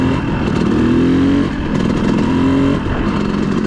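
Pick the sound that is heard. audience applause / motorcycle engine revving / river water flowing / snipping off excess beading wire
motorcycle engine revving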